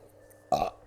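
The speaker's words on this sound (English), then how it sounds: "You know you can just mute your mic when you burp." A single short burp, close and fairly loud, a quick croaky belch over faint background hum.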